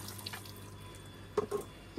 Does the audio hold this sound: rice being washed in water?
yes